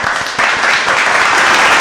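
A studio audience claps and applauses on a talk show, a dense, loud burst of many hands that swells slightly and holds steady, with no voices over it.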